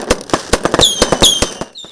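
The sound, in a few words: fireworks exploding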